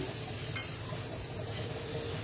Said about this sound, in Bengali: লাউ আর আলুটাকে বেশ ভালো করে ফ্রাই করে নেবো